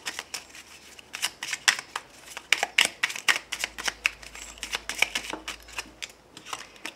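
Angel oracle cards being shuffled for a reading: a quick run of crisp papery riffles and taps, close and fairly quiet, repeating in uneven bursts with no voice over them.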